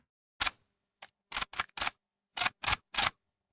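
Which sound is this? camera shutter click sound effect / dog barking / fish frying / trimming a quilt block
camera shutter click sound effect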